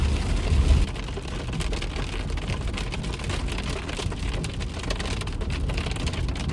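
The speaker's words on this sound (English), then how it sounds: "It started super pouring rain" Heavy pouring rain at a campsite, a dense, loud, continuous downpour with a low rumble at the very start, steady throughout with no talking.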